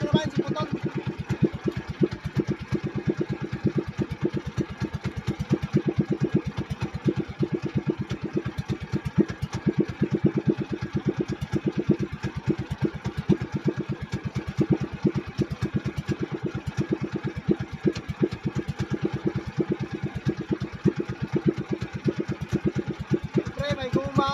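The engine of a fishing boat used for catching tanigue runs steadily with a continuous throbbing chug, loud and close throughout, with a voice talking over it.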